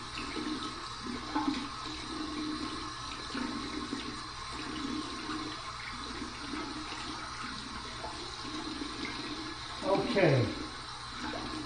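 A razor being rinsed under warm running tap water, a steady stream with splashing and gurgling throughout and a brief louder swirl near the end, with someone talking over part of it.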